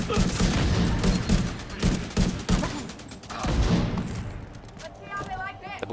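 A double-barrel shotgun fires repeatedly in the shooter game The Division 2, with sharp, loud blasts in quick bursts amid a chaotic firefight while a person talks over it.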